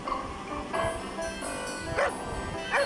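A dog gives several short yips and barks spread across a few seconds, fairly close, with brief whimpery tones between them.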